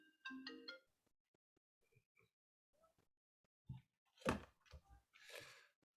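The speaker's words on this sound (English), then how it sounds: "That's my iPad that's ringing." A short tonal ringtone chimes from an iPad during an online webinar. There is one quick burst of rising notes at the start, then quiet, a few faint clicks, and louder thumps and noise near the end.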